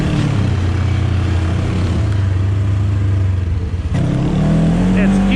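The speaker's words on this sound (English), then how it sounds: "if you can hear the engine, that's exactly what it's doing" A Polaris RZR S 1000 side-by-side engine working in low gear on a trail, a loud, steady drone with a low-pitched tone that dips briefly and then picks up again, close to the listener.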